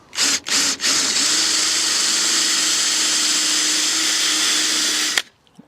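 An electric drill gives two short bursts, then runs in one continuous loud whir for several seconds before stopping abruptly, drilling into a salvage Subaru Impreza WRX.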